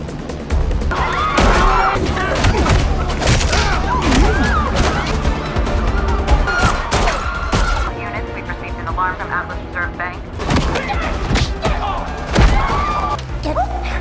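Sharp bursts of gunfire in a bank robbery film crack repeatedly over a dense, busy mix of crashes, thuds and voices, loud and chaotic throughout.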